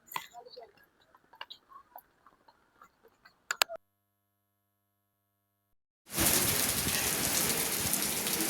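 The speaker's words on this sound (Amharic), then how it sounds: "ዝናብ እየዘነበ" Rain falls outdoors at a park cafe as a dense, steady hiss that starts abruptly partway through and continues loud to the end, after a stretch of scattered small ticks and clicks and a brief silence.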